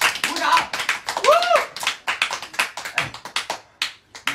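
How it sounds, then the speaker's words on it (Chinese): A livestream audience claps and taps in quick, uneven bursts throughout, with excited voices and a squeal mixed in over the applause. "鼓掌！"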